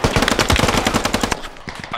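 Rapid machine gun fire in an urban warfare video game, a dense burst of evenly spaced shots for over a second, then quieter background, with faint voices in the mix.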